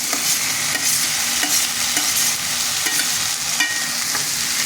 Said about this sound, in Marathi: आता आपण कांदा टाकू, तो परतून घेऊ